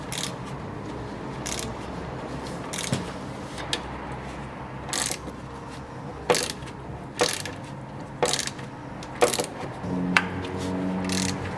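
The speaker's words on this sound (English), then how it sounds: "What I'm doing is I'm just going in a star pattern, I'm just nipping them up before I torque them" A hand ratchet clicks as it snugs up car wheel bolts in a star pattern before torquing, on an R34 auto-to-manual conversion; short bursts of close, crisp pawl clicks repeat every second or so over a quiet workshop background.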